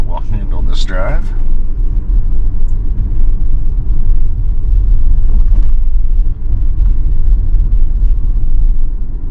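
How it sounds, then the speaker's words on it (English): A Tesla driving on a public road with FSD beta 10.6.1 engaged, pulling out from a stop. A steady low road rumble and cabin hum run throughout, with a brief burst of talk near the start. "We are pulling out onto the road."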